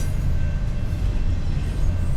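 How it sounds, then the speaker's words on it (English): Train rumbling past near a roadside during a Saturday evening delivery run, a steady heavy low roar with a faint high tonal whine, no talking. "There's always a train."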